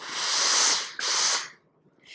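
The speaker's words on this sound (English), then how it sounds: "And you would press the dart in your desired direction. Again, heat and steam." A steam iron releases two hissing bursts of steam while pressing a sewing dart on fabric over a tailor's ham, each puff loud and close before falling quiet, followed by a faint start of another.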